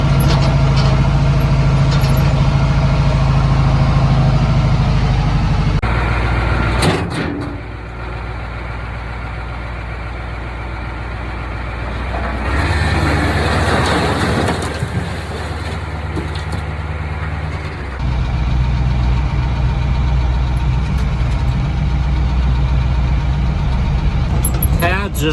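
A farm truck pulls onto a weigh scale with its engine idling loud and close, a steady diesel rumble that dips and swells, with a brief air-brake hiss and someone talking over it.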